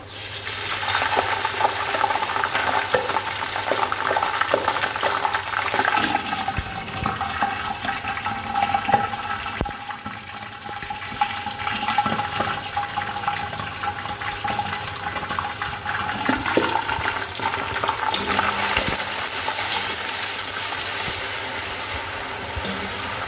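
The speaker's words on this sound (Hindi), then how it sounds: "इसके अंदर हम थोड़ा सा पानी डालेंगे, थोड़ा सा कलर निकल जाए इसका।" Water is poured into a pan of browned onions frying in oil, producing a continuous hissing, bubbling sizzle that stays steady and close for the whole stretch, with no voices.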